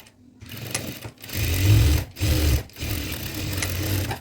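A sewing machine runs a plain half-inch seam on churidar pants in bursts of rapid mechanical stitching, with short pauses between runs. It is close and fairly loud, with no voices.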